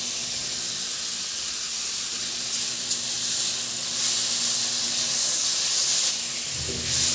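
Tomatoes sizzle in a pan as they cook, a steady close hissing and crackling spread bright and even across the whole stretch, with slight swells and a faint stir near the end.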